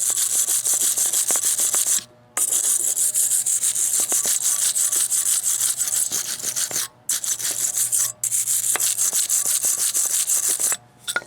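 Continuous close scraping and rubbing against a brake caliper bracket as its surface is cleaned, a steady rasping stroke that runs almost unbroken, with a few short pauses between passes.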